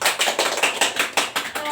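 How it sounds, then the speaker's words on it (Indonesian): Children in a classroom clap together in a quick, steady rhythm of sharp hand claps, near and fairly loud, with no talking over them. "Tepuk tangan dulu"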